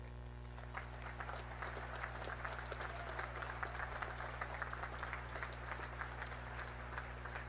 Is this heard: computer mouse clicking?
no